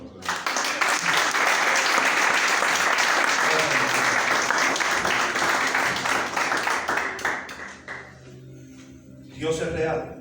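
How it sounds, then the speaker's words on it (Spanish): A crowd applauds loudly and steadily for several seconds, then the clapping thins out and fades, with voices rising briefly near the end. "Denle un aplauso a nosotros."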